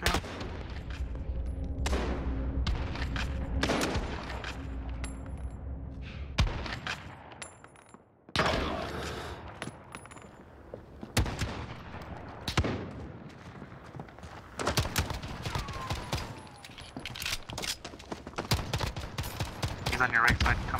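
Rapid bursts of carbine gunfire in a shooter video game, with repeated volleys and scattered single shots over about twenty seconds, mixed with excited live-stream chatter and occasional footsteps.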